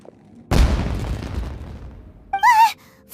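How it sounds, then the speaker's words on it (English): A single loud boom like a firework blast goes off in the video game Genshin Impact and decays over about two seconds. A short warbling whistle follows. "Was that an explosion? It sounded like fireworks."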